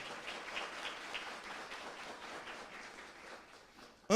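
Audience applause at a talk, soft and somewhat distant, a steady patter of many hands for about four seconds before a sudden loud knock at the end.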